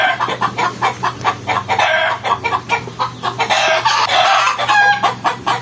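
Chickens cluck in a steady, busy chorus close by, with a rooster crowing now and then. The birds are chicks in a brooder pen, and a low constant hum runs underneath.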